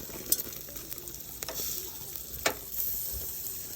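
Lamb chops sizzle on a grill, a steady soft crackle broken by a few sharp clinks and scrapes as the meat is turned.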